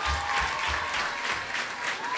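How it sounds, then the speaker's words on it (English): A school assembly audience at St Joseph Convent Grenville gives a round of applause, a dense, loud burst of many hands clapping that fills the short stretch from start to finish. "I want you to give her a round of applause as well."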